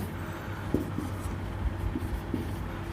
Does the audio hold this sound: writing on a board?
yes